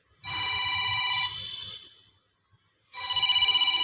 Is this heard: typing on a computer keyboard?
no